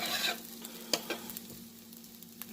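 Fried rice with jerk chicken sizzles in a pan with soft, steady frying, broken by a few brief stirring clatters; a low hum runs underneath, with no talking.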